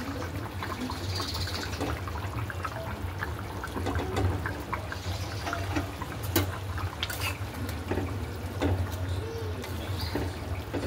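Hot water is poured into a cooking pot before rice is added, a steady close splashing and trickling that runs on without a break and with no talking.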